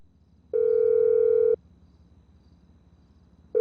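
A phone call ringback tone in GTA V Story Mode: one steady electronic beep lasting about a second, a two-second pause, then the next beep starting, clean and loud.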